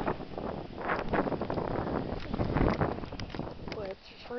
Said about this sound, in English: It's like windy as heck out here.